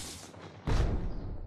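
Weapons fire during ship combat in the space strategy game Galactic Civilizations II: a sudden heavy boom cuts in over a faint hiss and rolls on loud to the end.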